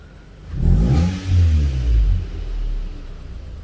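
Toyota Camry 2.4 V sedan with a custom exhaust revs once from idle, a deep heavy rumble swelling and falling back over a few seconds, close and loud with no talking.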